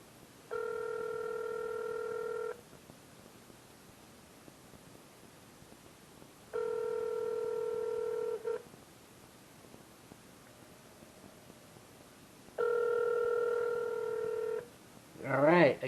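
A cell phone call rings out through the handset as a repeating electronic ringback tone, three evenly spaced two-second bursts separated by hiss-filled pauses, followed by a brief burst of noise at the end.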